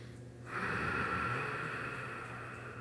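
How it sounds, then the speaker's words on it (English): Steady, slow breathing in and out through the nose during a yoga warm-up lying on the back, a continuous close airy rush that swells after a brief quieter start, with a low hum underneath. "Try breathing in and out through the nose."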